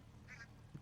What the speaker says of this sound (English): you gotta let the ducks cross the road